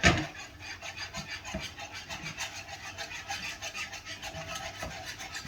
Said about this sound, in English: Keep stirring it. Don't let that burn.